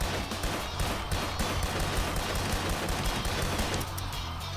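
Rapid, loud gunfire in the VR game Zombie Training Simulator, shots fired at cutout zombie targets in quick repeated bursts, close and dense with no talking over it.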